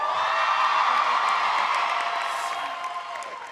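At a Fashion Institute of Technology commencement, a crowd of graduates screams and cheers together in a loud, sustained wave of high-pitched shouts and whoops that gradually fades.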